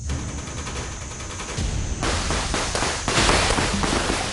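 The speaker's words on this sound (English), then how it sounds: "And a gunfight breaks out." Gunshots in a gunfight during a Sri Lankan Special Task Force police operation: rapid bursts of sharp cracks at close to medium distance, some overlapping, over a continuous background hiss.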